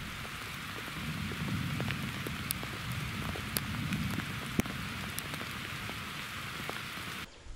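Heavy rain pours down outdoors under a tree beside a fishing spot during a thunderstorm, a dense steady hiss with scattered close drips hitting the surface, continuing loudly until it cuts off abruptly near the end.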